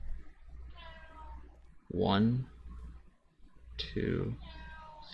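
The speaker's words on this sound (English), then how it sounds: "That's my cat, by the way." A house cat meows nearby several times, with one loud drawn-out yowl in the middle. A person speaks quietly between the meows.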